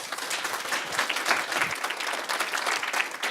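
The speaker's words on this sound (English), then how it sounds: "So we give them a round of applause" Audience applause for the panellists at the close of a STEM teaching seminar evening, a dense, steady round of clapping from a room of people that holds level throughout with no voices over it.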